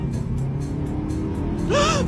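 A car engine hums steadily close by, then surges upward in a quick rev near the end, the pitch climbing as the motor accelerates.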